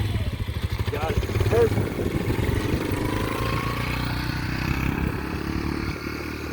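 A dirt bike's engine runs steadily and rises slightly as a novice rider pulls away, a continuous close rumble beneath a voice talking throughout.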